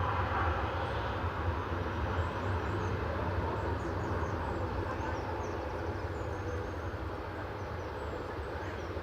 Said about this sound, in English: And next in is Vueling. Airbus A321.